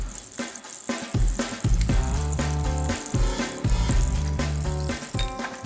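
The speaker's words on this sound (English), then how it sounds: "We're just going to crack right in the pan." Farm fresh eggs cracked into hot bacon fat in a cast iron pan, frying with a loud, continuous sizzle and spitting crackle that swells and pulses over several seconds, close up and without speech.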